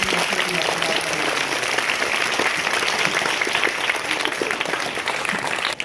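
Vigorous, sustained applause from students at a school welcome ceremony for a prize-winning pupil, dense and loud across the whole stretch with faint crowd voices mixed in.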